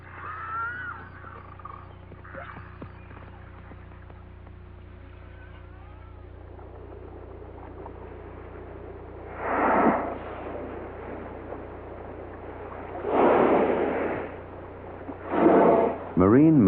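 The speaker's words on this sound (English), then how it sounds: "The predominant noises here are made by belugas. Narwhal, walrus, and bearded seal are in the background." Beluga whales calling underwater near the Arctic ice edge, with narwhal, walrus and bearded seal faintly behind them; several loud bursts of squeals and whistles rise late in the sequence over a steady low underwater rumble.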